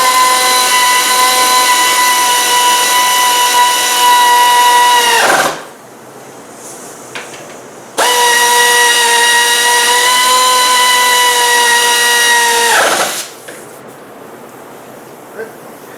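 A power tool spins a socket to run down wheel bearing bolts on a C4 Corvette front hub, two sustained whining bursts of several seconds each, loud and close, separated by a brief pause with faint clicks.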